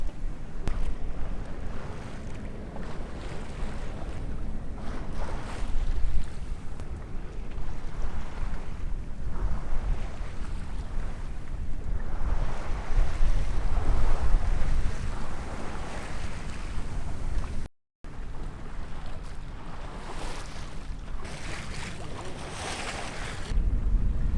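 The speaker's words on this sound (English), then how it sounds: "soak up the sailing ambience for a while first" Sailboat under way at sea, with steady buffeting wind over the microphone and rushing waves along the hull, continuous and loud, no voices.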